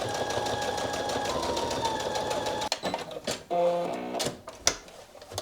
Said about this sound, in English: Now we're just going to stitch this facing part of the pocket down